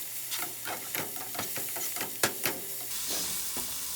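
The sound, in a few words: spinach with garlic sauteing in a pan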